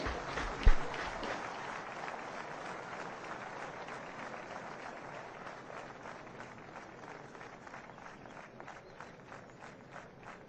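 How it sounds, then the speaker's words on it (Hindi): Audience applause for a parade at the ITBP Raising Day ceremony in Udhampur, Jammu: a dense, steady wash of clapping from a large crowd lasting throughout, with a brief sharp knock near the start. "सभी दर्शकों से सादर अनुरोध है कि जोरदार तालियों से इनका उत्साहवर्धन करें"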